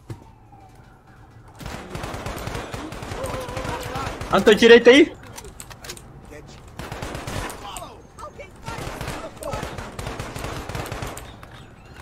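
Bursts of gunfire crackle during a police shootout in the Brazilian video game 171, with a loud cluster of shots midway and further rapid volleys, while someone talks over the action.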